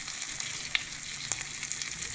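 An egg pancake frying in a pan gives off a steady close sizzle with small crackling pops scattered through it, with no talking.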